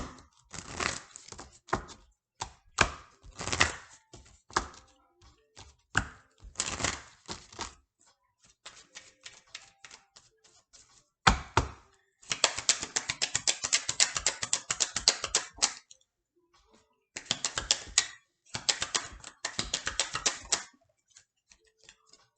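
Tarot cards being shuffled by hand during a reading, heard as bursts of rapid crisp riffling clicks and card flutters separated by short pauses, close and fairly quiet, with no talking.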